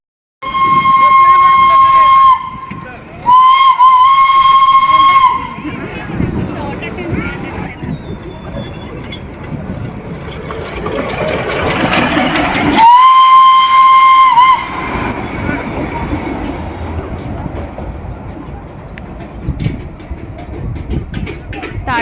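The Darjeeling toy train sounds loud, sustained steam whistle blasts at Batasia Loop, two in quick succession near the start and another later, with hissing steam and the rumble of the rail cars in between.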